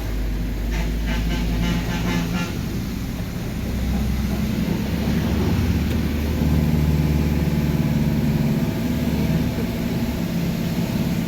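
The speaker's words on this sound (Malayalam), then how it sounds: "പത്ത് ഇരുപത് വണ്ടികൾ ഒരുമിച്ച് പോയിക്കൊണ്ടേയിരിക്കും" Steady traffic of many vehicles rolling past on a mountain ghat road, a continuous low engine and tyre rumble with no breaks between them, fairly close and at a constant level.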